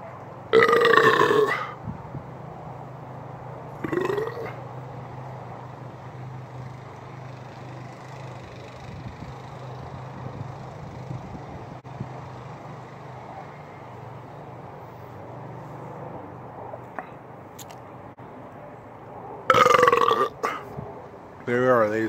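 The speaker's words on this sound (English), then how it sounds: "Gotta get out another burp before I finish it." Loud, long burps from a person who has just chugged a 2-liter bottle of Ruby Red Squirt soda, one at the start and another near the end, with quiet background hum between them.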